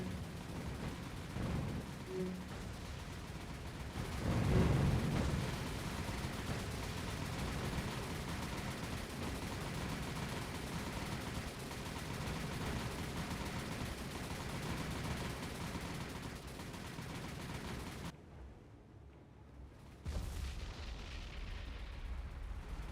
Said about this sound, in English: Lots of AA going on around here.